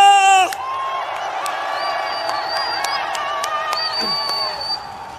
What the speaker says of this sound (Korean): 큰 함성과 함께 박수를 부탁드립니다